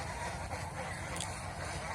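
Domestic geese kept in confinement on a goose farm in Mohanganj, calling in a continuous noisy flock chatter with a few brief honks rising above a steady background.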